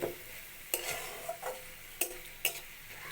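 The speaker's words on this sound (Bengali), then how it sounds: "এবার নেড়ে চেড়ে ভেজে নেব" Punarnava greens being stirred in a hot pan with a faint sizzle, punctuated by several sharp scrapes and clacks of a utensil against the pan.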